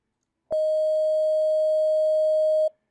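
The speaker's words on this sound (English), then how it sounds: "Hii ni sine wave." A single steady sine wave test tone generated in FL Studio 20.5 starts abruptly, holds at even loudness for about two seconds, then cuts off cleanly, alone with no talk.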